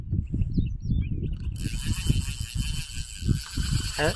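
Fishing reel ratcheting steadily as a large fish pulls line out at a new fishing spot, a close, continuous clicking drag running throughout, with no talk over it.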